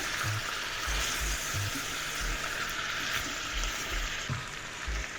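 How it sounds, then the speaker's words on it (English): Ingredients for nikujaga, Japanese stewed potatoes and meat, are stir-fried in a pan, a constant moderate sizzle with soft intermittent knocks and scrapes from stirring. "Please add other ingredients and stir fry."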